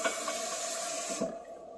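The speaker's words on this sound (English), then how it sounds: "so now you need 3 cups of freaking water of the same cup you used." Water pours into a pot for making arroz con leche, a steady bright splashing hiss that stops abruptly near the end, leaving only faint room noise.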